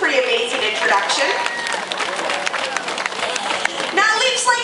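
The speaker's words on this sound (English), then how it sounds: "Should we give them a round of applause for that?" A dolphin show audience breaks into loud, sustained applause and clapping, with talk heard over it throughout.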